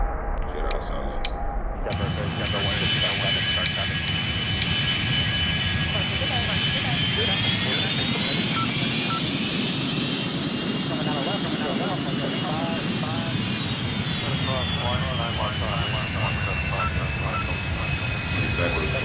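The Boeing MD-90 jet engines in the Airline Commander video game throttle up to a loud, steady roar, with a high turbine whine that climbs in pitch and then eases back down.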